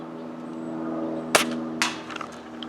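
Two sharp shots from an S&T M1903A3 Springfield airsoft rifle firing .25 gram BBs at targets outdoors, the first crisp and loud, the second about half a second later, each followed by faint downrange ticks over a steady background hum.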